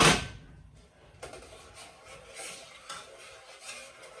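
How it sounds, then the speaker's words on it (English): Noodles are stirred in a pot on the stove, heard as a sharp clatter and then soft, scattered scraping and rubbing strokes, fairly quiet and irregular, with no talk. "I'll let that sit there and stir a little bit"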